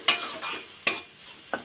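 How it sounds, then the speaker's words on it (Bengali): Potato being worked into a spiced filling for egg paratha, heard as four short, close scraping strokes spaced about half a second apart, each one fading quickly into quiet. "আলুটা দিয়ে ভালো করে পুরটাকে আলুর সাথে ভালো করে মাখিয়ে নেব"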